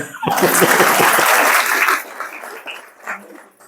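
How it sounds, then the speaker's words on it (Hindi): An audience claps together in a loud burst that lasts about two seconds, then thins out into a few scattered claps before dying away. "एक बार फिर ताली बजाओ"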